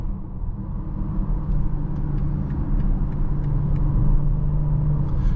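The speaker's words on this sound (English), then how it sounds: "You can hear the rev up a lot more." 2024 BMW X6 40i engine in sport mode, a steady low rumble from inside the cabin that swells slightly as it revs, with faint clicks on top and no talking.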